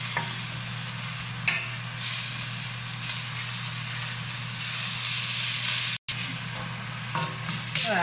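Meat stir-fries in a wok with a loud, steady sizzle and crackling hiss, punctuated by occasional scraping clanks of the spatula and a brief cutout near the end, close up and without voices.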